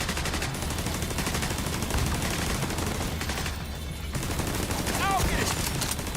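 Dense gunfire from the video game The Division 2, continuous rapid automatic bursts at full loudness across the whole stretch, with a voice talking briefly over it.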